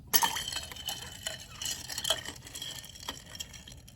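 Ice cubes clinking and knocking against a container of ice water bath as they are stirred, a series of light glassy clicks, close and fairly quiet.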